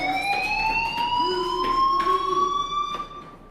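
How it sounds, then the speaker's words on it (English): An electronic fire alarm from the video game Life is Strange wails in a steady, loud rising tone with bright overtones, sounding continuously for about three seconds before fading out near the end. "Hey, do you hear that fire alarm?"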